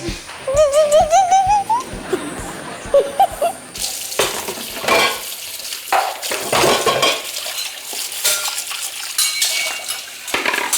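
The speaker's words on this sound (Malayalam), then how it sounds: "ഇങ്ങനെയാണോ പാത്രം ഒതുക്കി വെക്കണേ" Metal kitchen vessels clank and clatter as they are stacked and arranged, loud and close, with a tap running and water splashing in the sink, and brief tonal squeaks near the start.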